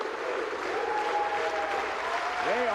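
Huge bowling crowd in Tacoma cheering a perfect 300 game at a professional semifinal, sustained applause and roaring cheers, with a voice speaking over the noise.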